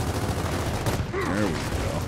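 Rapid gunfire from a Gears of War 4 video game match, a dense continuous barrage of shots with game sound effects and a voice speaking briefly over it.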